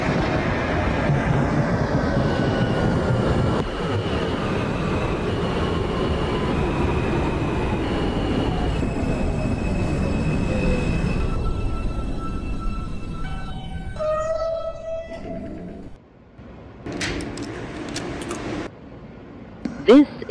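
A simulated New York subway J train in the OpenBVE game rumbles steadily along the track with a whining motor tone that falls in pitch, then slows and squeals as it comes to a stop.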